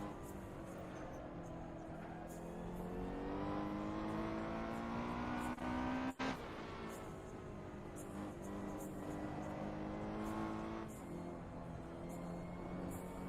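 A Ferrari 488 Challenge engine in the Assetto Corsa video game drones and revs steadily at low volume, with shifting tones and a brief dip around a gear change.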